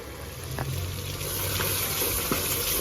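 Masala sizzles and fries in hot oil for chana dal, a steady close crackle with a few brief clicks of a spoon stirring.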